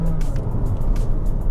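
A new Honda HR-V engine droning as it revs, a steady low hum inside the car that holds at an even level through the short stretch without clear peaks, and no one talks over it.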